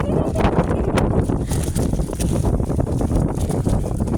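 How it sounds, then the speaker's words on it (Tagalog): Strong wind roars steadily against the microphone on White Island in bad weather, a dense continuous rumble with gusty fluctuations throughout. "Lakas ng hangin."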